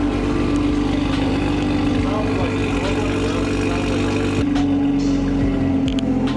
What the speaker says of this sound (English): I honestly like how the exhaust sounds on this